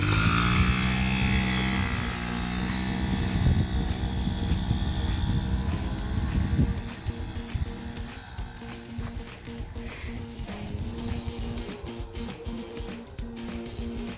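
A 1978 yellow Honda Express moped being ridden, its small engine buzzing loud and close at first, then settling into a steady lower drone as it pulls away, with no one talking.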